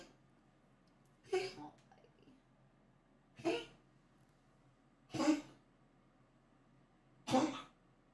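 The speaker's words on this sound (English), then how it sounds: "I don't know why she's just started coughing so much." Four separate coughing bursts from a poodle, each a short rough hack, spaced a couple of seconds apart against a quiet background.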